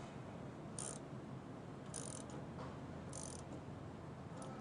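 A belt tension adjuster is tightened a couple of turns, giving faint, spaced metallic clicks of the ratcheting mechanism over a quiet background hiss.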